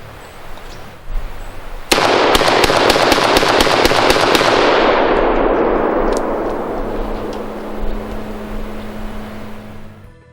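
A CZ 712 practical shotgun firing a fast string of loud, close, sharp reports, about a dozen in a few seconds, each echoing and blending into a long rumbling decay that fades out.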